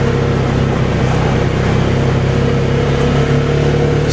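The engine of a 2023 Argo Magnum XF 500 side-by-side drones loud and close as it pulls along, a steady low hum with a faint rising edge and no voices.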